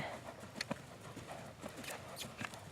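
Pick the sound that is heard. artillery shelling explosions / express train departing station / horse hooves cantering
horse hooves cantering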